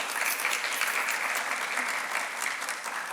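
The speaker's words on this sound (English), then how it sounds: "Please give a warm round of applause." An audience at a Lavender Graduation ceremony at SUNY Downstate claps steadily in a dense, even wash of applause that holds for a few seconds, fairly distant and with no talk over it.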